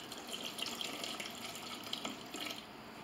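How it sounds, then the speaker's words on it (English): Water pours steadily into a blender jar holding eggplant for seed harvesting, a continuous close splashing trickle lasting a few seconds with no talk. "So now I'm just gonna add a little bit of water."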